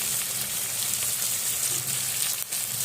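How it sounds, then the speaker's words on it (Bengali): Potatoes frying in hot oil with sugar and spices give a steady, even sizzle that holds close and constant throughout, with no talking over it. "এবারে আলুটাকে আমি ভেজে নেওয়ার জন্য চিনি মশলা প্রথমে দিয়ে দিয়েছি"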